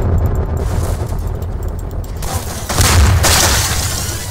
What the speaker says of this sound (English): The explosions are so loud.